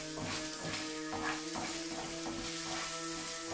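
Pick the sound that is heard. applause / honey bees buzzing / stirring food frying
stirring food frying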